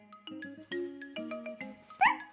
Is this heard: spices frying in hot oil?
no